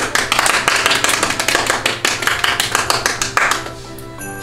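A few people clap together at a small Christmas gift-opening gathering, a quick run of close, sharp claps in an uneven rhythm that breaks off near the end.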